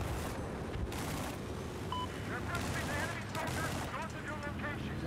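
Dense battlefield gunfire in Battlefield 4, overlapping rifle shots and bursts rattling continuously at a loud, steady level, with scattered whizzing and ricochet-like chirps layered throughout.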